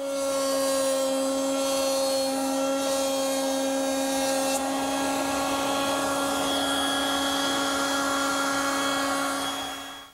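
A router cutter shaping a bead on wooden stock fed through on a router table with featherboards: a loud, steady high-pitched motor whine with a cutting tone that holds for about ten seconds, then fades at the end.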